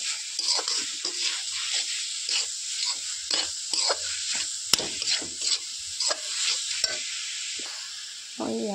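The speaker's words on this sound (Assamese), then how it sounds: "মই কিছু সময় ভাজি থাকোঁ।" Coconut laddu mixture is fried and stirred in a pan: repeated scraping strokes of the spoon in an uneven rhythm over a soft, continuous sizzle, close and clear.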